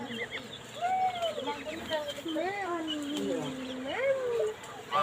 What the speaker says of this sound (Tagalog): O, may pato.